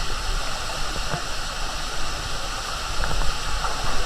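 The Sticky Waterfalls in Chiang Mai, Thailand, give a steady rushing and gurgling flow of water over rock, close and continuous, with faint splashes and no clear speech.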